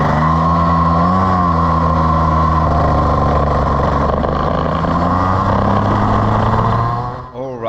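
A go-kart engine droning steadily at Roskilde Racing Center near Copenhagen, Denmark, loud and close with a buzzing pitch that rises and dips with throttle, fading slightly at the end.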